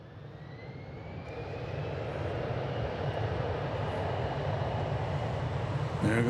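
An American Airlines jet taking off from Dallas Fort Worth airport, with a broad engine roar building steadily louder and holding, plus a faint rising whine, alone without talk.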